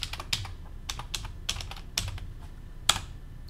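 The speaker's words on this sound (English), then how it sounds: "Type in yes, type in my password." Keystrokes on a computer keyboard while entering a password at a Linux terminal for an SSH login, a quick irregular run of close, crisp clicks with no talking.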